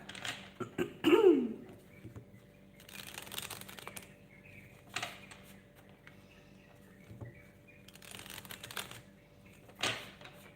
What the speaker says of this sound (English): Give the cards a good shuffle as I'm talking.